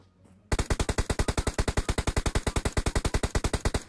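Sustained automatic gunfire in the battle royale game PUBG Mobile, a long steady burst of evenly spaced loud shots following a brief quiet start, with no talking over it.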